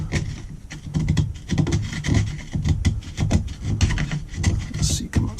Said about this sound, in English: I've got a little kind of small chisel here. I'm going to try to see if I can work some of that